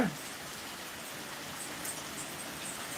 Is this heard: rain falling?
yes